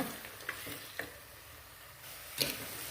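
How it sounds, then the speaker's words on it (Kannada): Egg masala for rice, made with four or five eggs, sizzles gently in a pan as a spoon scrapes through it in three quick, close strokes. "ಚೆನ್ನಾಗೆಲ್ಲ ತಿರ್ಸೋಣ"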